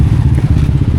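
A delivery motorcycle on a street in Malaysia, its engine idling close by with a loud, throbbing low-pitched putter and slight clatter, no talk.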